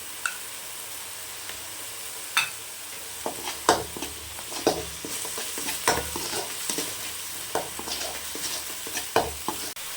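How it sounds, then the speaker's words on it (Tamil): Ginger garlic paste frying in oil in a pan for mutton curry, a steady sizzle broken by frequent scraping stirs and clinks from a utensil, close and moderately loud, with no talking. "வறுத்துக்கலாம் செவக்க வந்திருக்கு இஞ்சி பூண்டு பேஸ்ட் சேர்த்துக்கலாம்"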